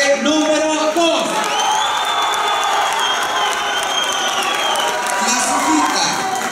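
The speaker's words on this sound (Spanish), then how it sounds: "Aplauso para la concursante número dos" Loud crowd at a TV pageant competition cheering, whooping and applauding a contestant, a sustained dense roar with shrill shouts, mixed with music and a voice speaking.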